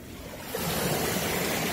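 Gentle autumn sea waves wash in at a beach, a steady broadband rush that swells slightly partway through, with no talking.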